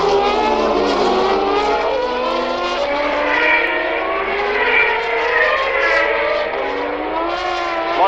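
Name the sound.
1990 Formula 1 race cars running close together at Paul Ricard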